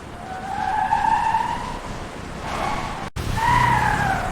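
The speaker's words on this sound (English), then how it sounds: "The taxi moves through busy traffic." A taxi pushes through busy traffic, with steady road and engine noise, tonal whines rising and falling, and a brief dropout before the drone resumes.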